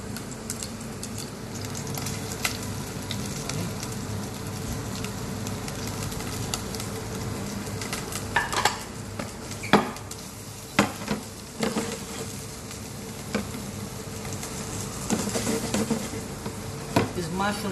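Mushrooms frying in olive oil in a pan, a steady close sizzle with occasional stirring clatter and sharp pops toward the end.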